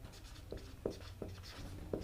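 Chalk or marker strokes on a board during a class 9 physics lesson on velocity, a few short scratchy taps and strokes at an irregular pace, fairly faint against a quiet room with no talk.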